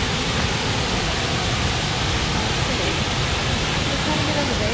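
Hooker Falls in Dupont State Forest pours with a dense, constant roar of falling water, loud and close, with no break in the rushing noise.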